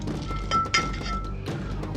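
Cardamom and nut mixture ground in a mortar, with close knocking thunks of the pestle and gritty scraping, plus a couple of sharper clinks, in a steady uneven rhythm.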